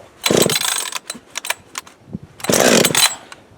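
A Husqvarna AutoTune chainsaw with choke and high idle set is pulled and pops to life: two loud, broad bursts of engine noise with short rasping pull sounds between them, close by and without talk.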